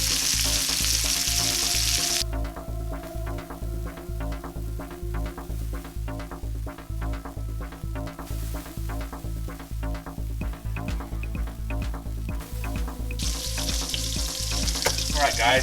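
Pork tenderloin and garlic searing in a hot pan, an even close sizzle running under a loud, regular mechanical hum with rhythmic pulsing throughout, no speech.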